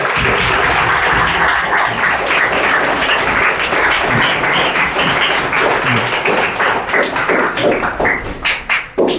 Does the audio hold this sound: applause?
yes